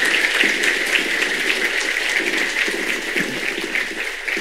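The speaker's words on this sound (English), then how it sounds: "clap yourself" Live audience at a talk or retreat session clapping together, a steady dense wash of many hands that holds at even loudness from start to finish, with no voices over it.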